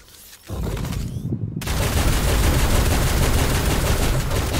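Sustained, dense gunfire from the modded video game Ark on the Scorched Earth map. It bursts in loud after a short lead-in and keeps going as a continuous barrage with no pause.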